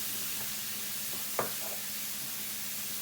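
A beef burger and bacon sizzle in a frying pan for a classic pub-style beefburger, a steady even hiss of frying broken once by a brief knock of a utensil against the pan.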